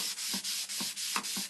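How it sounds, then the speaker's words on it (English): Hand sanding of a lacquer finish to smooth out imperfections gives a close, rhythmic scratchy rasp, about five quick back-and-forth strokes with short gaps between them, and no voices. "You can remove the imperfections with sanding."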